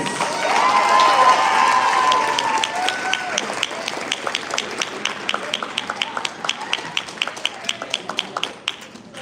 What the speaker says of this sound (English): I want you to give him a warm round of applause this morning.